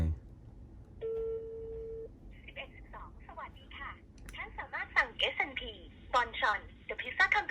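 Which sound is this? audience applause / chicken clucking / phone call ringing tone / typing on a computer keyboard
phone call ringing tone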